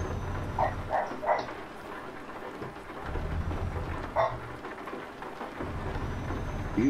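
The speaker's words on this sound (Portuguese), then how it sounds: "Tá caindo chuva esse negócio aqui." Steady rain hisses throughout in Euro Truck Simulator 2 against a low truck engine hum, with a few brief chimes and soft knocks rising over it.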